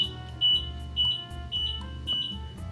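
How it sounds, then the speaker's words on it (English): A mobility scooter's fault buzzer sounds with the brakes released, giving five evenly spaced high electronic beeps over a low background hum. "You're going to hear this buzzer beeping 5 times."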